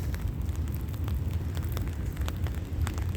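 Steady rain falling in Riyadh, a constant hiss with scattered drops pattering on a hard surface, no voices.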